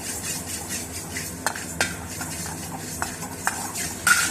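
Fenugreek seeds are dry-roasted in a pan while a spoon stirs them, producing soft rattling scrapes and occasional metallic taps against the pan over a faint, steady hiss, close up and without speech.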